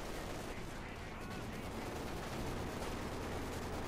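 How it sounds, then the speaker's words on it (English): Machine guns fire in Company of Heroes 2 within a dense, steady wash of battle noise, with rapid bursts blending into the constant din at a moderate level. "taking loss there from one machine gun just firing down at it"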